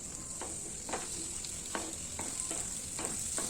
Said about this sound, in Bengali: প্যানে বাটার দিয়ে কেটে রাখা পেঁয়াজ, ক্যাপসিকাম, স্লাইস করে কেটে রাখা টমেটো দিয়ে ভালো করে একটু টস করে নিতে হবে।